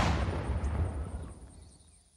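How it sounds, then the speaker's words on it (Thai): A car blows up in the survival game Unturned, a sudden loud blast followed by a rumbling roar that fades away over about two seconds. "อยู่ดีรถระเบิดเฉยเลย"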